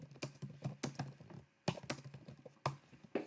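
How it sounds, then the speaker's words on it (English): Steady clicking keystrokes on a computer keyboard come in quick irregular bursts with brief pauses, close and quiet, with no voices. "you can type little texts here"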